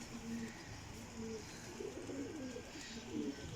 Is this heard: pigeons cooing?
yes